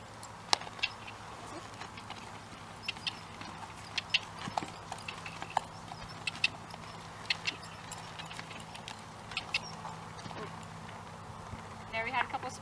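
Hoofbeats of a barrel horse spinning during a training exercise thud in quick irregular clip-clop patterns across a quiet arena, fairly faint, with a rider's voice talking over them.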